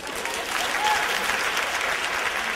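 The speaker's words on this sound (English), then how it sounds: "Clap if you know what I'm talking about." Audience clapping at a motivational speaker's talk in Atlanta, Georgia: a burst of many hands applauding together, loud and sustained throughout.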